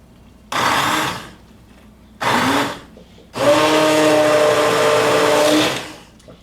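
A hand immersion blender blending watercress soup whirs in three bursts, two short pulses, then a longer sustained run before stopping.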